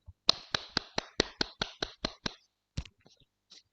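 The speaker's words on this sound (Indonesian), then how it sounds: "kita berikan aplaus, tepuk tangan dulu untuk Dea Patekasari" About a dozen crisp, evenly spaced hand claps in a classroom after a group presentation during a teacher performance assessment, sparse and close, followed by a pause and a few softer stray claps.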